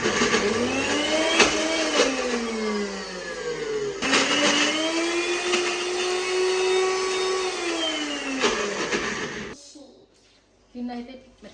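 A mixer grinder whirs loudly and continuously, grinding gravy ingredients for palak paneer into a paste, with its pitch rising and falling across two long runs before cutting off into near silence.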